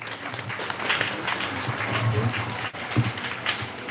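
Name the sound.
applause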